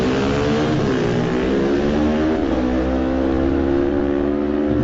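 Lightweight-class racing motorcycles at the Isle of Man TT roar loud and sustained, their engine pitch rising and shifting as they rev hard and accelerate away, with no voices over them.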